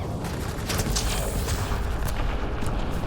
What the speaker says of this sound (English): Ooh, that was a lot of explosions.